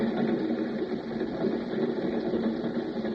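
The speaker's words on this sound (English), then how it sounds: "He listened to the sound of the wheels on the rails" Train wheels rolling on rails as a radio drama sound effect, a steady rhythmic mechanical rumble and clatter at moderate volume, continuous and unbroken with no voices.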